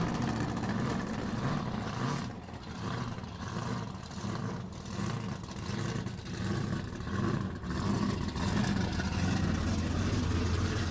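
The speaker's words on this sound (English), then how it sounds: "How about a supercharged engine through a set of pipes?" Supercharged nitro funny car engine roaring through a set of pipes at Palmyra Dragway, a continuous heavy rumble heard at a distance with surging swells, no speech over it.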